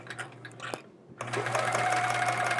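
A sewing machine doing free motion quilting on a chevron scrap quilt whirs close by, with a short pause before the motor starts again and runs steadily to the end.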